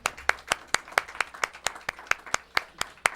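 Rhythmic, sharp clapping from a small studio audience welcoming a new crew member on a local Thanksgiving talk show, steady evenly spaced claps close to the microphone.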